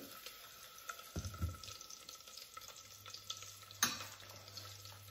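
Cumin seeds and garlic spluttering in hot oil for a tempering, a soft crackling sizzle with a few sharper pops and a louder burst near the end, no voices.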